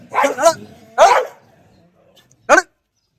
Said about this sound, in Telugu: 5 కుక్కలు కలిసి పాపం ఒక్క కుక్క మీద కొడుతున్నాయి